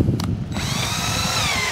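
A power drill bores through a carburetor part from a Stihl HS81T hedge trimmer, giving a steady, close, high-pitched whine that runs without a break for the whole moment.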